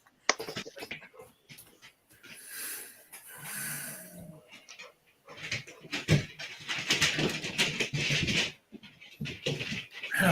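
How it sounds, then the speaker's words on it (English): Dogs whimper, snort and let out a few barks in uneven bursts, with moderately loud stretches broken by short quiet gaps. "Is that your dogs?"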